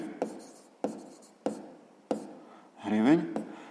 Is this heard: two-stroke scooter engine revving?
no